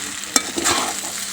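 Beef tripe sizzles in a frying pan while being stirred, with a sharp scrape near the start and a short burst of crackling, close and fairly loud.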